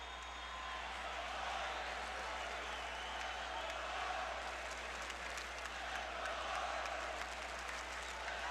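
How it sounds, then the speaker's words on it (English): A large on-campus college basketball arena crowd roars and applauds in a steady, dense wash before Georgetown plays Syracuse, loud and sustained throughout with no clear breaks. "It could be the largest on-campus crowd ever in college basketball"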